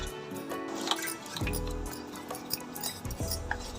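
Water is poured into a bowl of spice masala for paneer butter masala and stirred in, giving soft wet drips and squishy mixing sounds against faint background tones.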